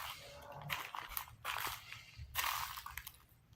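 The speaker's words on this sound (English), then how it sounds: "Now there's brown leaves and it's all crunchy." Footsteps crunch on dry brown leaves in three or four distinct, close but soft crunching steps.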